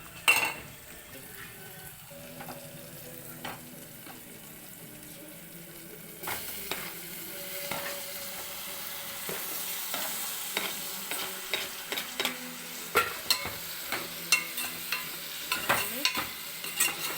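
Tomatoes are added to fenugreek leaf (methi) curry frying in a pan. A spoon stirs steadily through the sizzle, and the scraping and clinking against the pan grow louder and more rhythmic toward the end.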